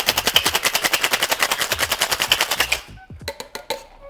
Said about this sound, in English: We're going to shake that up.